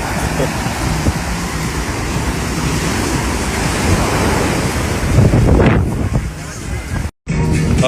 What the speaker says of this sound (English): The water came all the way here from the beach. The waves are so high.